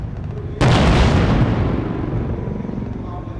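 A loud blast or burst of gunfire erupts suddenly during an Indian Army fire-and-move combat demonstration at an Army Day display, then rumbles and decays slowly over a steady low background.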